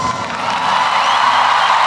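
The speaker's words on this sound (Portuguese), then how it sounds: "Agora pode aplaudir." A large audience cheers and whoops loudly and continuously at a speaking event, the roar of the crowd swelling slightly and holding steady throughout.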